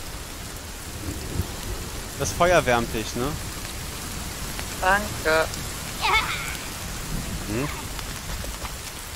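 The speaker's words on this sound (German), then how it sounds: "jetzt gewittert es auch noch" Steady rain falls during a thunderstorm in the survival game The Forest, a continuous hiss beneath several short bursts of people talking nearby.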